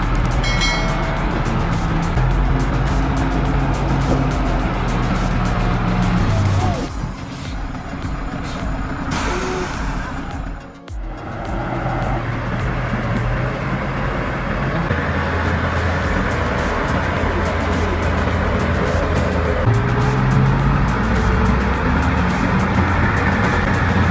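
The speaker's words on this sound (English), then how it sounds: "Two giant trucks are competing on a bumpy mountain road, with their wheels struggling to stay out of the mud" Two giant heavy-loaded wood trucks grind along a bumpy, muddy mountain road, their engines a loud, continuous roar with a brief dip in the middle, then surging again.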